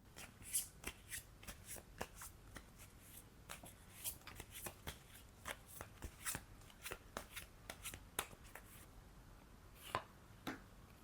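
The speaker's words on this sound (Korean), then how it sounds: "1번 카드 뽑으신 분들을 위해 타로 카드 뽑아보겠습니다" Tarot cards being shuffled by hand in a run of crisp riffles and snaps, close and fairly quiet, continuing steadily for about eleven seconds with no talking.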